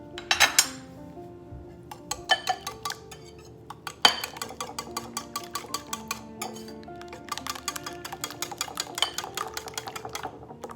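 Whisk or utensil clinking repeatedly against a bowl while egg and orange zest are beaten together for French toast, a rapid irregular run of close, bright taps with brief pauses, no talking.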